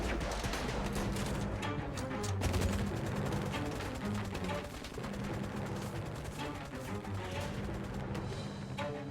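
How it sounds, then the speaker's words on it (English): Dense gunfire from the video game Syberia: The World Before, a sustained clatter of repeated loud shots and bursts running continuously over a humming game soundtrack. "the sound effects for the guns seem to be off"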